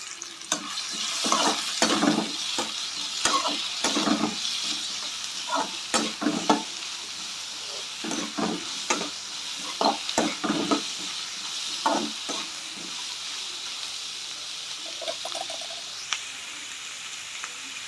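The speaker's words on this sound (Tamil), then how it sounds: "வெங்காயம் கருகிராமல் இருக்க பக்கத்துலேயே நின்று கிண்டி விட்டுக்கோங்க" Onions and dried red chillies stir-fried in a pan for Tamil arai keerai poriyal, with a steady sizzle and repeated spoon scrapes and stirring clatter throughout, close and with no talking.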